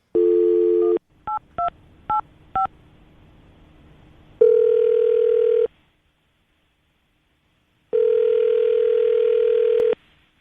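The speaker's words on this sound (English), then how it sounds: "We're going to give her a call right now, see if we can get her on the phone" Telephone call placed for a radio show: a short tone, four quick touch-tone dialing beeps, then two long ringback tones separated by silence, clean and close with no voices.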